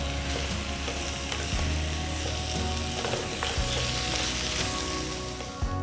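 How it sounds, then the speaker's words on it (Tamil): Chicken pieces sizzle loudly in a hot kadai with spiced masala, a steady close crackle broken by scraping stirs of a spoon against the metal pan. "சிக்கன் துண்டுகளை சுத்தமாக கழுவி கடாயில் போட்டு நல்லா மிக்ஸ் பண்ணுங்க."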